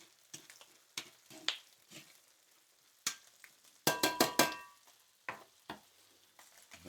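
Sauerkraut sizzles in a frying pan as it is stirred, with scattered scraping and clattering knocks, a quick burst of rattling strokes in the middle, over a faint soft frying hiss.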